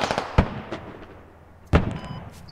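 Two sharp, booming gunshots with long echoing tails, a rifle firing suppressive shots into trees in the Squad game's large-scale Fallujah battle; loud and close, spaced over a second apart, with fainter distant pops between.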